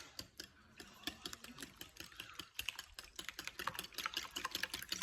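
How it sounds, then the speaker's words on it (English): Eggs whisked in a bowl for a custardy French toast batter, the whisk rattling in quick, close, continuous taps with no talking. "Make sure you get all those eggs broken apart and whisked up."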